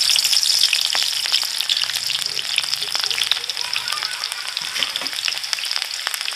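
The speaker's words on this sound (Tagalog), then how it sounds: "Pagkatapos, lagay na natin itong ahos at saka sibuyas." Garlic and onion frying in oil produce a bright, dense sizzle with rapid crackling pops, loud and close and steady from start to finish.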